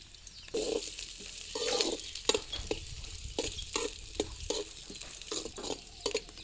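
Onions fry in a pan, stirred in a quick repeating rhythm of scraping strokes over a close sizzle.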